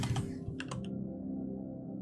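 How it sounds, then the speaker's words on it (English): Several quick keyboard clicks at the start of the clip while someone types a name into a mail screen in the PC game Warhammer 40,000: Inquisitor – Martyr, over a steady low game drone. "type in your name"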